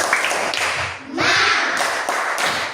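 A classroom of pupils performs a rhythmic spirit clap, loud close hand claps and slaps in quick patterned bursts with brief pauses between phrases.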